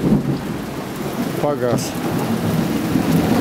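Thunderstorm with steady rain pattering on surfaces and a low rolling rumble of thunder underneath, continuous and fairly close, while a voice briefly speaks partway through.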